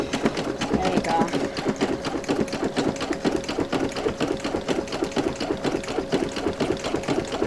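A Brother SE1900 embroidery machine, raised on a riser, stitches a design onto a tote bag with a rapid, steady mechanical chatter and needle hum at close range, while someone speaks over it.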